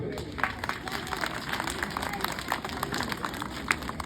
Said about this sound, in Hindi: अब ताली बजा सब बच्चे।